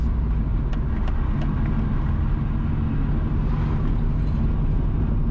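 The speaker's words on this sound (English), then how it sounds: "Currently, we are driving east from Drapers towards Sansan." A car drives east along a road near San San in Portland, Jamaica, giving a steady, loud low rumble of engine and road noise from inside the vehicle, with no talking.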